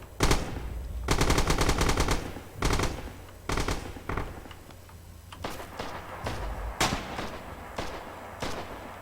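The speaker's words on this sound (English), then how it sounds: "You can already hear him unloading his light machine gun" A light machine gun unloads in a video game fight at the back wall of a church. Long rapid bursts alternate with shorter volleys of gunfire, loud and close throughout.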